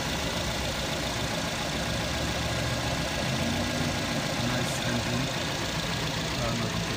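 A 2010 Nissan Sentra SR engine idles quietly and steadily, a low, even rumble that holds unchanged throughout with no voices.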